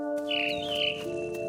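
A mama bird in the video game What Remains of Edith Finch chirps in a short, wavering high call over a steady tonal game background, faint and brief.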